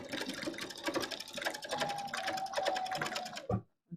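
A sewing machine stitches over a tear in fabric with a rapid, steady mechanical whirr and clatter up close, then stops abruptly near the end with a couple of final clicks.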